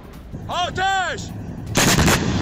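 Artillery fire striking a Ukrainian position near Kupiansk, heard as a single loud, broad blast that follows a couple of rising whistling tones and rumbles on briefly afterward.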